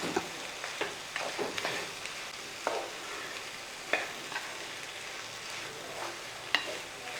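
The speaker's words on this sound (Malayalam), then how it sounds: "ഇനി ഇതൊന്ന് ഈ ഗ്രേവിക്കകത്ത് നല്ലവണ്ണം മിക്സ് ചെയ്തിരിക്കും" Soya chunks are stirred into a curry gravy in a hot pan, a spoon scraping and clacking against the pan in irregular strokes over a constant sizzling hiss.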